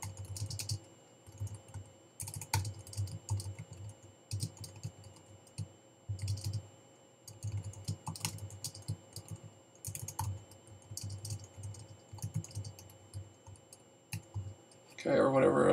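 Computer keyboard typing while entering text into a web page builder, bursts of close clicking keystrokes in irregular clusters separated by short pauses, with a voice speaking briefly at the very end.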